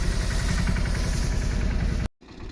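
A farm tractor engine idling steadily nearby with a regular low chugging throb, cutting off abruptly near the end before a quieter tail.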